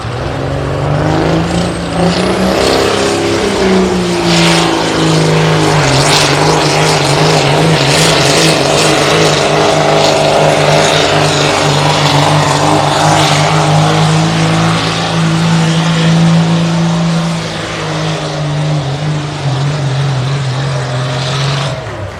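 A yellow Dodge diesel pickup in the 8,000-pound class roars loudly at a county fair truck pull, its engine holding a heavy sustained drone that strains and rises before easing near the end.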